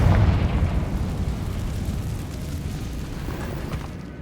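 A Confringo fire spell explodes in the video game Hogwarts Legacy, a loud boom at the start that fades into a long rumbling tail.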